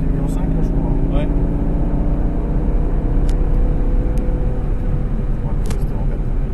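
An Aston Martin on a track roars steadily under acceleration, a loud continuous engine drone filling the scene, with occasional faint clicks above it.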